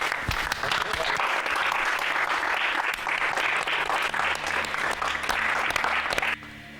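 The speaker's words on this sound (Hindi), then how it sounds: "सूरी खानदान की होने वाली बहू के लिए तालियां।" An audience breaks into sustained applause for a bride-to-be at a family celebration, loud dense clapping that carries on for several seconds before cutting off abruptly near the end.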